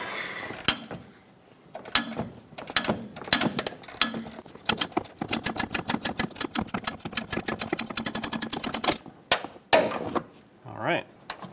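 Long run of rapid, rattling clicks as a 24mm socket on an impact tool breaks free the control arm nut behind the fender liner of a 2007-2014 Chevrolet Silverado 2500 HD, with sharp knocks before and after, close and loud.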